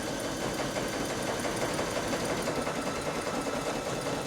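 An embroidery machine sewing out earrings, a loud, steady rapid mechanical stitching chatter that runs continuously throughout with no voices.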